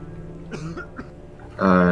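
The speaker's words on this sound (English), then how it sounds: "Yeah, I'm coughing." A couple of short, rough coughs up close, followed by a louder voiced burst at the end.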